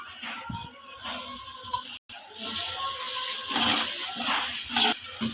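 Sliced onions with salt, curry leaves and split green chillies fry in a pan for a Telangana-style korameenu fish curry, giving a bright, continuous sizzle with bursts of stirring and scraping.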